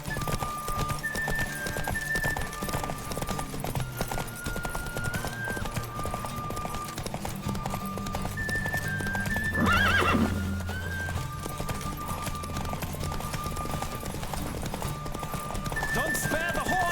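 Rapid clip-clop of a galloping horse in the video game The Witcher 3 runs throughout, with a brief neigh midway and voices and music underneath.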